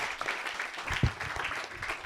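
An audience applauds after a music masterclass at Les Arcs, a brief dense patter of clapping at moderate distance.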